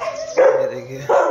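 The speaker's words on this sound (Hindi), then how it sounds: "यहाँ पर कुत्ता है हमारा भौंक रहा।" A pet dog barks nearby at home in a few short bursts, with someone speaking over the barks.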